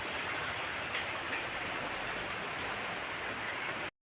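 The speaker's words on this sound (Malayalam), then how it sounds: "നല്ല മഴ കേട്ടാ ഇവിടെ" Heavy rain pours steadily, a dense, even hiss of drops on surfaces that cuts off abruptly at the end.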